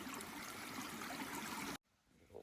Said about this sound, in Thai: น้ำไหลในป่านี่มันสุดยอดเลยอ่ะ